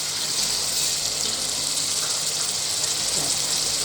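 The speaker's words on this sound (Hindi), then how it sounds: "वो पानी है जिसमें मैंने चने बॉईल किए थे" Water that chickpeas were boiled in is poured into a pot of black chickpea curry, giving a steady, loud gushing splash that runs without a break.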